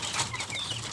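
Pigeons fluttering and flapping their wings as they are fed, a close, busy burst of soft feathery beats with faint clucking-like calls mixed in, no talking.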